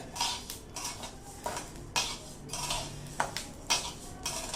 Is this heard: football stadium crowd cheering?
no